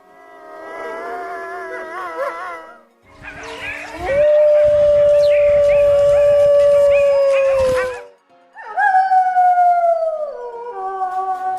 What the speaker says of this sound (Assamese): উল্ফ অসমীয়াত কুকুৰনেচীয়া